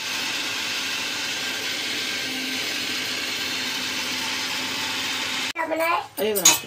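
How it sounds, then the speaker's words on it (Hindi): A steady whirring motor of an electric mixer grinder making juice runs continuously, then a voice briefly speaks over it near the end. "ये कर दिया है मिक्सी ऑन मम्मी ने"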